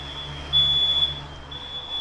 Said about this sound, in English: now all my smoke alarms are going off